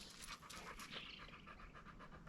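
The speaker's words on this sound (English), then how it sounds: "I'm sure all you can hear is puppy dog panting" A puppy named Margarita pants rapidly and softly in quick, even breaths close by, a faint, airy huffing over a quiet room background with no talk.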